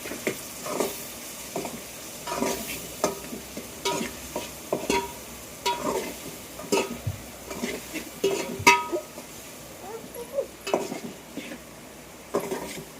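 A spoon stirs egg bhurji in a pan with oil, tomatoes and green chillies, giving a run of repeated scraping clinks against the metal over a soft steady sizzle, close and fairly quiet, with no voices.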